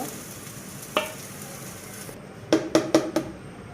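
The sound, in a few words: mustard oil sizzling in a hot wok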